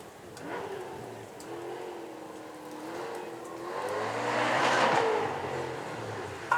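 A 700-horsepower 7-litre Chevy V8 supercar revs at a supercar weekend event, its engine note rising and falling and building to a louder swell near the end. A commentator talks over the sound.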